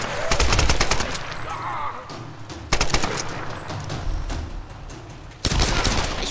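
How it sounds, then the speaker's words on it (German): Rapid bursts of gunfire ring out in a Tomb Raider game, loud repeated shots in three clustered volleys separated by brief lulls, with a voice talking between them. "ich schieße hier gerade ein wenig blind"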